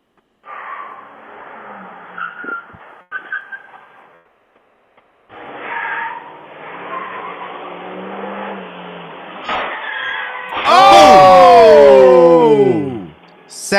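A truck drives past with a rising engine roar, then its tires skid loudly in a long screech near the end.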